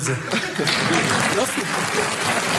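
An audience applauds steadily throughout, a dense wash of clapping with faint laughter mixed in, no break in the sound.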